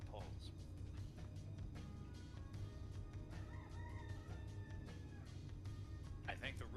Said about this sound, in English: I think the rooster agrees.